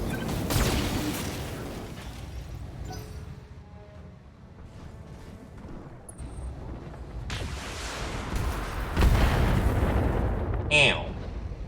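Mech weapons firing in the BattleTech 3062 video game: heavy booming blasts and rumbling explosions in a couple of loud bursts with quieter stretches between, ending on a sharp high crackle.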